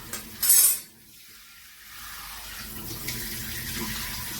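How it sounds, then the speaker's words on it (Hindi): Tap water runs steadily into a sink while a child washes dishes, with a brief splashy clatter near the start before the flow settles into a constant hiss. "नल बंद करो, नल।"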